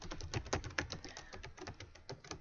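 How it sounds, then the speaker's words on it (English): Rapid, uneven tapping of keys on a computer keyboard as text goes into a document, close and fairly loud, with no talk over it. "I would then just type right onto the document"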